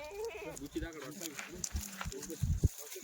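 Kathiawari goats bleat several times in short, wavering cries, close by, amid scattered farmyard shuffling and rustle.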